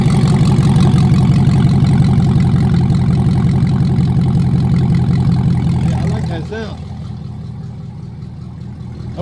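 A Chevrolet Camaro SS V8 with an AWE Touring non-resonated catback exhaust idles loud and close, a deep steady rumble that drops to a quieter idle near the end, with excited talk over it.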